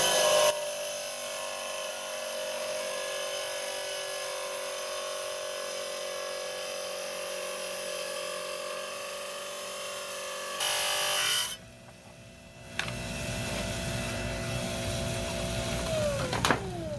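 A trim saw slices through a piece of unakite stone being trimmed for a cabochon, a steady close whine that runs for about ten seconds, cuts out briefly, then resumes.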